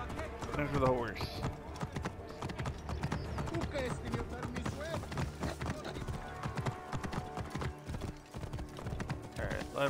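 Horse hooves clip-clop in a quick, steady rhythm in the video game Assassin's Creed Origins, with a person talking over the footsteps now and then.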